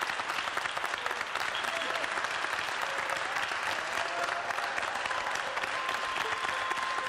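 An audience applauds steadily and loudly at a live music event, a dense unbroken clapping that lasts throughout.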